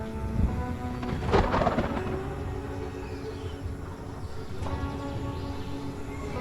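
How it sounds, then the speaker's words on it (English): A thunderstorm in the video game Stranded: Alien Dawn, with a loud crack of thunder followed by rolling rumble over steady rain. "Because it is storming."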